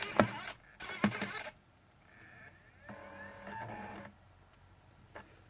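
A CD spins up in a laptop disc drive with intermittent clicks, whirring motor rises and tonal buzzing seek noises, quiet and close, with brief gaps between the mechanical bursts.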